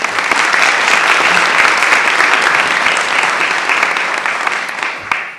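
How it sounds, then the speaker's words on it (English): An audience at a Teacher of the Year award ceremony claps in sustained, dense applause that holds steady and then tapers slightly at the end. "Let's give a round of applause for District 3 Teacher of the Year, Elementary Teacher of the Year, Deborah Str"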